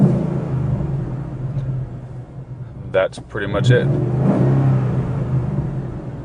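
A Ford Mustang GT's 5.0 Coyote V8 idles with a low, steady rumble, briefly rising in pitch midway; a voice speaks over it near the middle.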